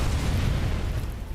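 Grenade explosions in the RoboCop video game, a dense low rumbling boom that fills the moment, loud and sustained with no talking over it.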